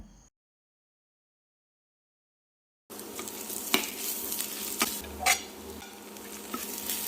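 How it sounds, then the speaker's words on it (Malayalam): Crushed ginger, garlic and chili sauté with onions in a pan for mutton curry, a soft sizzle with light stirring scrapes and a few sharper clinks, starting after a brief silent gap. "ഈ സമയത്ത് നമ്മൾ ഇതിലേക്ക് ചതച്ച് വെച്ചിരിക്കുന്ന ഇഞ്ചി, വെളുത്തുള്ളി, മുളകുമൊക്കെ ചേർത്തൊന്ന് വഴറ്റിയെടുക്കാം."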